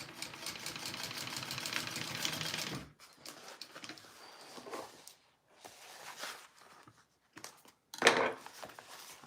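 A sewing machine stitching a fabric bag, a rapid whirring run of needle strokes for a few seconds, then quieter handling sounds, short bursts and pauses, with a brief louder rustle near the end.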